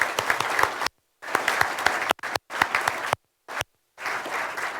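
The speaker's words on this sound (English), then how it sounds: "Can we please have another round of applause?" An audience at a ratepayers' mayoral event gives a round of steady applause, many hands clapping evenly, broken by several abrupt silent gaps.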